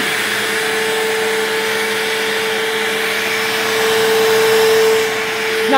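A Bissell CleanView 3574 vacuum cleaner runs steadily and loudly at close range, a constant whirring drone with a clear motor whine and no voices.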